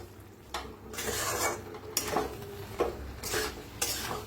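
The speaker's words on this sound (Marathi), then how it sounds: "एकदा मिक्स करून घेऊया." Spicy cabbage and potato sabzi stirred in a pan, with repeated scraping, clattering spoon-on-metal strokes coming in bursts over a low cooking hiss, close and fairly loud.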